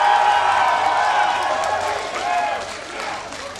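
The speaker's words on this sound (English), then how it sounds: "let me hear you guys cheer in the audience for Curse" Arena audience at a North American regional esports match between Curse and TSM Evo cheering and whooping, a loud continuous roar of voices with some clapping that gradually fades.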